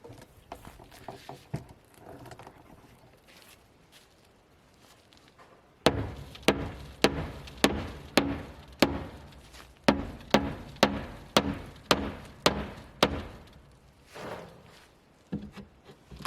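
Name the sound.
hammer hitting rabbit hutch frame from underside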